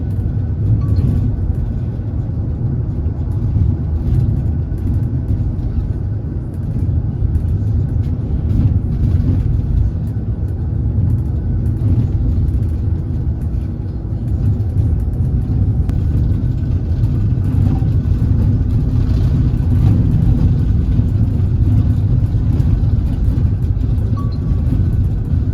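Inside a Rimba Raya tronton on the road from Kelet to Jepara in Indonesia, a loud, steady low engine rumble and road drone fill the cabin without a break.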